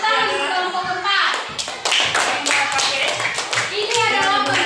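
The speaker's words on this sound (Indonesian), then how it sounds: "Tepuk tangan untuk kelompok 4." Classroom children clap for a student group in an Indonesian civics lesson, a burst of hand claps and taps, close and somewhat uneven, with children's voices mixed in.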